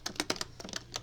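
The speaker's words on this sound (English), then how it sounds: "So I'm typing off screen, right?" Quick, light keystrokes on a computer keyboard patter in an irregular run of about eight clicks, faint and close, with no voices.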